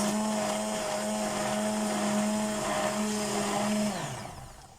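An electric blender whirs loudly and steadily as it beats milk, salt, garlic powder, onion powder, vinegar and oil into eggless mayonnaise, then winds down toward the end, with no talking.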